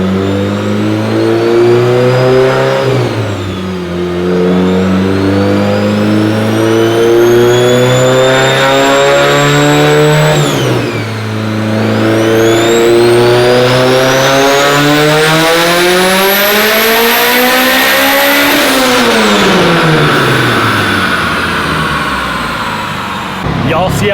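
A Mitsubishi Evo 8 running around 35 pounds of boost roars on a dyno, close and very loud, sweeping up through the revs, dipping at a shift, then climbing again to a high scream before dropping away.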